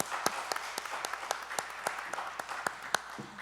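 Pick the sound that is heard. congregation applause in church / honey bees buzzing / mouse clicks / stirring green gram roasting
congregation applause in church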